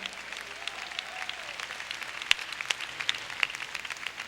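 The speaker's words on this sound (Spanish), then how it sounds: "Si va a dar ese aplauso, déselo fuerte al Señor." Congregational applause in a church service, a steady wash of many hands clapping at moderate distance with scattered sharper claps standing out.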